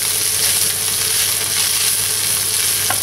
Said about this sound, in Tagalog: isama na natin yung shredded chicken na pinakula natin. Haluin lang natin.